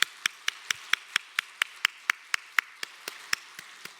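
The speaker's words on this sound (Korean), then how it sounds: "모두 너무너무 수고하셨다고 우리 감사와 격려 박수하겠습니다." Slow, evenly spaced claps from a church congregation at a Korean Wednesday evening worship service, sharp single hand strikes in a steady rhythm, close and fairly loud with no talking.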